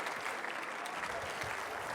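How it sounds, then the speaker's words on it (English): An audience at a live stage hypnosis show claps steadily, a dense, continuous wash of applause throughout. "Round of applause for these guys."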